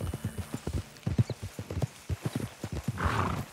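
Horse hooves clip-clop in Red Dead Redemption 2 at a steady trotting rhythm, close and clear, with a brief burst of rustling noise near the end.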